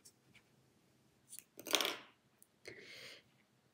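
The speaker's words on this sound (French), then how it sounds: "je coupe mon fil" Scissors snip through crochet yarn with one crisp, close cut in the middle of a quiet moment, framed by a few soft handling clicks and rustles.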